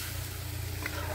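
Tempering for besan pithla fries in a pan with a soft, continuous sizzle and faint stirring, heard close up with no talk over it.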